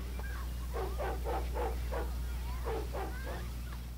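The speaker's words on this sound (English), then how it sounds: "Dogs barking faintly." Several dogs bark faintly in the distance within a tense, music-free scene of a 1968 horror film, a ragged run of yips and woofs over a steady low hum.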